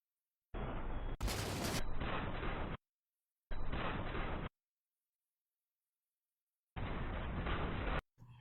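Boltshot pistol firing in a Halo 4 trailer, heavy booming energy discharges in three separate bursts, each a dense roaring blast lasting a second or two, split by stretches of silence.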